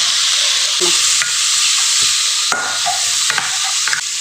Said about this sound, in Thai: น้ำมันลงไป น้ำพริกแกงลงไปคั่วเนาะ